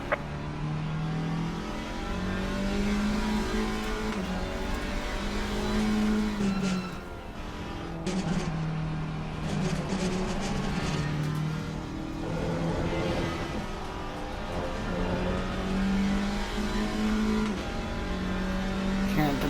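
An Alpine GT4 race car in a racing video game revs its engine hard and repeatedly, the pitch climbing and dropping in cycles as it works through gears, a loud and close engine note.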